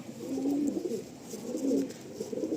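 Two swelling bouts of close pigeon cooing, low and throaty, rising and fading in turn with a brief dip between them and no talking.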